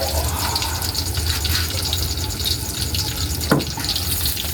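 A loud, continuous sizzle and crackle of fish frying in hot oil, with a brief sharper pop near the end.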